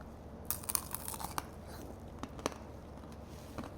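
Close-up crunching and chewing of crunchy sugar-coated candy, several sharp crackly bites scattered across the clip with quieter crinkly chewing between them, no voices.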